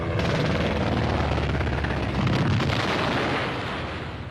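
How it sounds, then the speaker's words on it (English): Airstrike explosions roll as a continuous, heavy rumbling roar with dense low booms and crackle, loud and sustained for several seconds before easing slightly at the end. "A second airstrike is called in."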